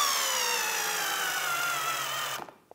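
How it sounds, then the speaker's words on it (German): A power screwdriver drives a partial-thread screw into wood, a steady high whine with slowly falling pitch for over two seconds before stopping abruptly, followed by a couple of small clicks. "Ich schraube erstmal eine rein."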